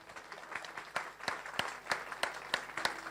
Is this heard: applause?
yes